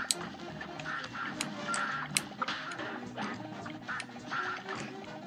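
Cartoonish duck quacks from a heavily modded Warblin' video game, coming in repeated bursts over busy game noise with occasional sharp crashes, moderately loud throughout.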